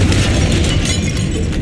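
A Confringo blast curse explodes in Hogwarts Legacy inside a tomb, a loud, dense, sustained boom with heavy low rumble filling the whole moment, no voices over it.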